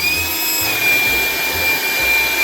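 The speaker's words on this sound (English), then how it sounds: "I've got a 24-volt cobalt blower. It works. It does the job." Cordless 24-volt Kobalt blower running close by with a loud, steady airflow roar and a high whine, holding constant throughout.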